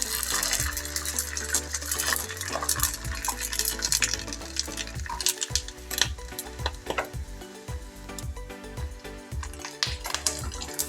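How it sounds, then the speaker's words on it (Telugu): Sago fryums (saggu biyyam vadiyalu) fry and sizzle in hot oil in a pan, with a spoon repeatedly stirring and scraping at close range, steady bubbling throughout. "ఇట్లా ఫ్రై చేసేసి పెట్టేసుకోండి."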